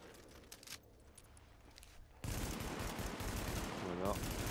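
Shotgun fire in the video game The Division beta, with gunshots that turn into a loud, steady burst of firing partway through and continue to the end.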